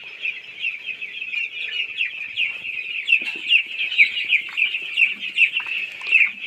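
Broiler chickens on a farm in hot summer weather cluck and chirp continuously in a dense, steady chorus, fairly close, with no talking over them.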